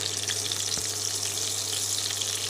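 Fish wrapped in banana leaf fries in a pan, giving a dense, steady, close sizzle with a constant low hum underneath and no pauses or talking.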